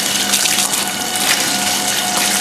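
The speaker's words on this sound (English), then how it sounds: "You want to turn the green hose on a little bit more? Get a bit more water out?" Water gushes hard and steady from a green hose into a bin in a fish-and-chip shop kitchen, a loud continuous splashing rush.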